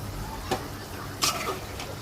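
A spoon scrapes and knocks in a pot as a dish is stirred and browned while cooking eggs and drumstick dal, with two or three distinct scraping strokes over a low background hiss.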